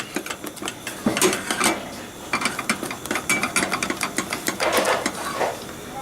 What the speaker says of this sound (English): But all the time I'm stirring it.